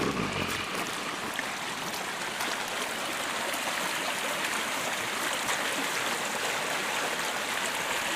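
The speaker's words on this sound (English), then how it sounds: "Now you've got to see the creek again." Creek water flows in a steady, full, broadband rush, close and constant throughout with no voices over it.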